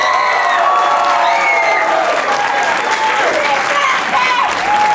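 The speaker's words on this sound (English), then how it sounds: "Can we give them one more round of applause?" An audience at an elementary school musical theatre performance applauds and cheers loudly, with continuous clapping under high excited shouts and whoops from children and adults.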